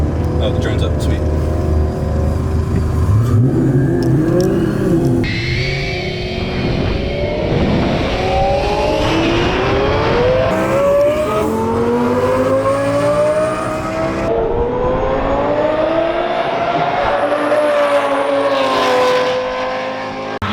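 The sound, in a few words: twin turbo Lamborghini Gallardo roll racing, exhaust screaming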